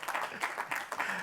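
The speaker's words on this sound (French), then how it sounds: "Il faut l'acclamer très fort" An audience at a show cheers and applauds, dense clapping in rolling surges with some voices mixed in.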